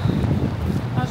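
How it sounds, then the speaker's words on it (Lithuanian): Strong seaside wind on the Neringa coast buffeting the microphone, a dense, steady roaring rush throughout the brief moment. "vėjas tai baisulinis"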